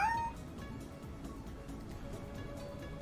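Toy robot cat in the Nancy Drew game Shadow at the Water's Edge gives a single short electronic meow at the very start, followed by a steady low background hum with no talk.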